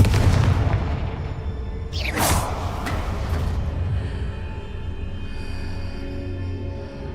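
A Confringo fire-blast spell goes off in Hogwarts Legacy as one sharp, close explosion with a bright crack that rings out and fades into steady ambient rumble.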